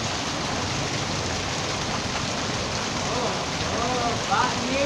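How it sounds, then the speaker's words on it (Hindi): Heavy rain pours steadily in a long unbroken hiss of dense drops close by, with faint voices rising in the last second. "ये बरसात पे ऐसी बरसात कितने सालों बाद हुई है?"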